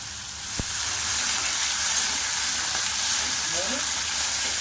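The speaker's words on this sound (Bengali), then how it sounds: "চিংড়ি মাছ বেশি ভাজলে শক্ত হয়ে যায়, অল্প করে ভেজে নেব যাতে শক্ত না হয়।" Prawns fry lightly in a pan of hot oil, a close, steady sizzle and hiss that rises after a brief utensil knock and holds evenly, with faint stirring movements underneath.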